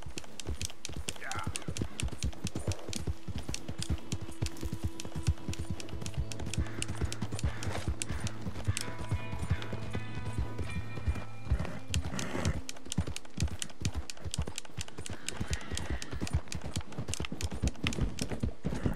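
Horse hooves clip-clop steadily in Red Dead Redemption 2 as the rider travels at a gait, a dense rhythmic patter running throughout with occasional whinnies, game sounds and someone talking over it.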